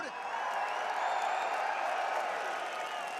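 A large crowd applauds and cheers at the UFC 305 press conference in Perth, Western Australia, a dense, steady wash of clapping and shouting that holds evenly throughout.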